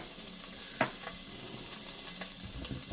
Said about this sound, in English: we're going to throw in our sausage, and we're going to brown our sausage.